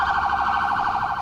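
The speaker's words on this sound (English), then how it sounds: "With lights flashing and sirens sounding, we fight our way through the congested streets of Bangkok." An emergency vehicle siren wails through the congested streets of Bangkok, loud and close, a fast warbling tone that cycles evenly for the whole short burst with no voices.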